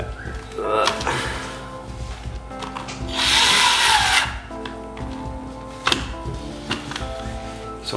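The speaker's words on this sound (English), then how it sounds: "be very careful if you are using a power drill" A power drill whirs in a short burst driving screws while assembling a Thermal Tower PC case, amid scraping and rubbing sounds of work, with a voice faintly in the background.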